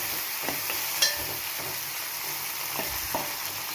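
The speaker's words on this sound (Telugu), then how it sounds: "ఆనియన్స్ వేగిపోయి టమాటోస్ కూడా వేసేసుకుందాం" Chopped onions and tomatoes sizzle steadily in a pan for carrot biryani, a constant close frying hiss with a few sharp clicks and light stirring scrapes.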